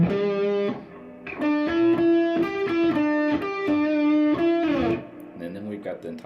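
The closing phrase of a solo on distorted electric guitar: a close, loud run of repeated sustained notes with quick bends, played alone and fading out at the end.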